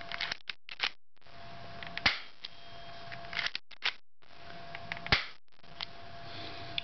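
A 1911 airsoft pistol, its slide racked back and fired repeatedly: sharp, close mechanical clicks and snaps in irregular bursts, with two louder cracks standing out, separated by short silences.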